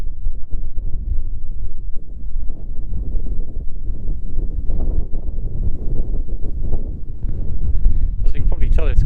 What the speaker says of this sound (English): As you can probably tell, it's quite windy down here